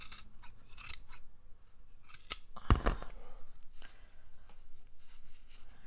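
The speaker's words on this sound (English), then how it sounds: "just cut off the ends and make those nice and straight" Scissors snip the ends of crocheted yarn tassels in a quiet room, a few soft cuts followed by one sharp, close snip near the middle and faint handling rustles.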